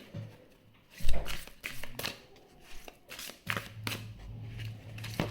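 A tarot deck being shuffled by hand, with close papery riffles and slaps in irregular bursts and a faint low hum behind.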